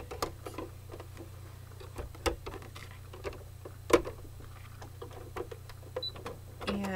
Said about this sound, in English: the first thing it's going to stitch is the maple leaf itself